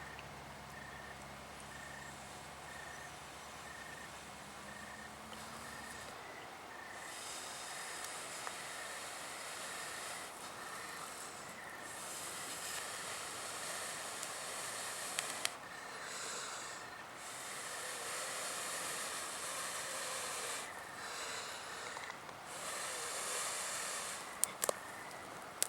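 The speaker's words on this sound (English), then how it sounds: "proceed to gently blow this into flame" Soft, steady breath blown gently onto glowing tinder from a fire piston, starting slow and rising into a broad hissing rush with short gusts, close to the microphone and without talk.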